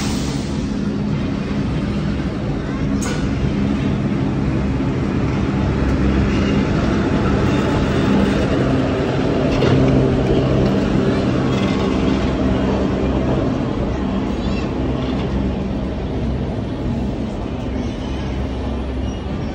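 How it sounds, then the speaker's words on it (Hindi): Gwalior-Ratlam Intercity Express pulling into Gwalior station behind a WFP4 locomotive, a continuous rumble of wheels and coaches with a rhythmic clatter, close and steady throughout. "ये है Gwalior Ratlam intercity express WFP4 के साथ आ रही है।"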